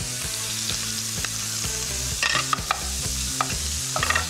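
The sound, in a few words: bacon frying crispy in a pan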